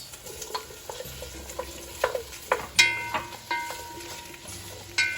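Potato pieces fry in olive oil in a pan for beef mechado, with a soft steady sizzle broken by scattered clinks and scrapes of a spoon stirring them, close and fairly quiet.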